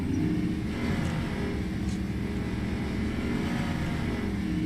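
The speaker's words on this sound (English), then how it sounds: "This car sounds like it needs to shift gears. Like it's stuck in second gear or third gear or something." Constant engine drone from a car in Way of the Hunter 2 that seems stuck in low gear, a steady high-revving hum at moderate level with no shifting and no talk.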